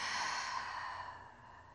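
A single long, soft breath is exhaled during a stretching exercise. The airy whoosh fades gradually to quiet over under two seconds, with no speech.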